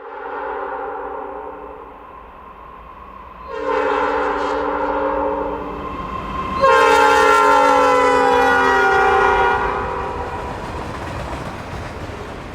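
GE Dash 9-40C locomotives lead freight train 36Q downhill at Robesonia, sounding a series of long, loud horn blasts over the steady rumble of the passing train.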